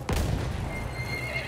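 Horse in Battlefield 1 letting out a loud, close whinny that rises sharply and trails off into a shaky neigh, with faint hoof clatter underneath.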